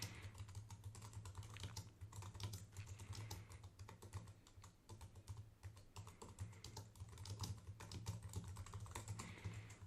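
Steady, continuous typing on a computer keyboard while writing page text for a Ruby on Rails web app, dense rapid key clicks running throughout over a low constant hum, no talking.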